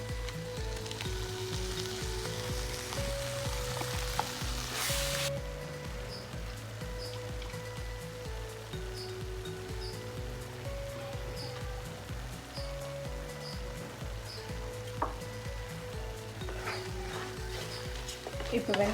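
Ground onion and tomato paste fries in oil for a turkey berry kulambu, a steady sizzling hiss running throughout with a louder burst near the start, while background tonal sounds and faint talk sit underneath.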